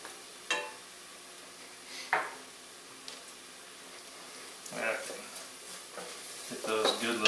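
Garlic sautéing in a pot for broccoli cheese soup makes a soft sizzle broken by occasional stirring scrapes, growing busier and louder toward the end.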